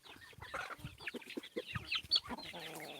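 Chickens cluck busily and continuously at close range, with a flurry of short overlapping calls and no talking, around feed of ground water hyacinth.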